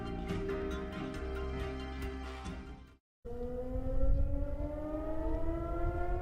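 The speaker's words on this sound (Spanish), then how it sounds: "Las sirenas antiaéreas son parte de la vida cotidiana" An air raid siren wails loudly, holding a steady pitched tone, cutting out briefly, then rising again in a long climbing howl with no talking.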